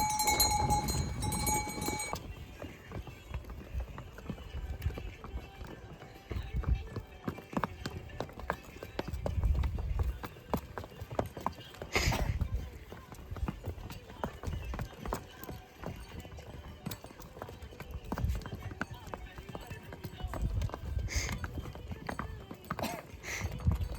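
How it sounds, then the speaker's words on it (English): Pack mules wearing bells walk a mountain trail in Nepal toward Everest base camp, their hooves clopping and bells jangling in uneven bursts, sometimes close and loud, sometimes fading, with little talk. "here's some pack mules. I think they're mules, not donkeys."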